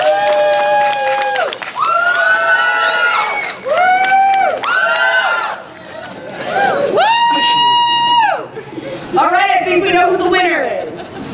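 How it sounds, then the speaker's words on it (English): Audience at a sideshow performance cheering, whooping and shouting in bursts, with children's voices prominent, loud and close, plus light applause mixed in. "but a round of applause"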